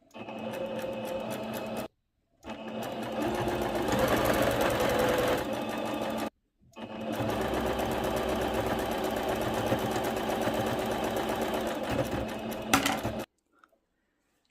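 A sewing machine stitches the inner side of a gathered seam joining the tiers of an elastic-waist tiered skirt, running in steady close bursts with two short pauses between runs.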